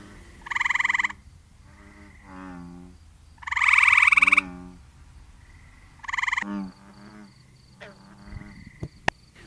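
Tree frogs calling at the edge of a pond, with three loud bursts of rapid, pulsing trills, each followed by lower, shorter croaking notes, and quieter chirps in the background.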